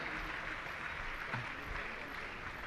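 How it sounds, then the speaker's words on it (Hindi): Steady, dense applause from a gathered audience at a Jain religious discourse event in India, sounding fairly distant and even, with no clear voice on top. "जोरदार ताली।"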